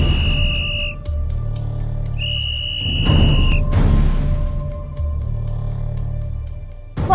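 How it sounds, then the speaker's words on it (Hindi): A whistle is blown on a cooking competition set: two sharp, loud, steady high-pitched blasts of about a second each with a brief gap between them, then a shorter third blast, over a constant low hum of background noise. "अब मैं बजाती हूँ किसी की सीटी"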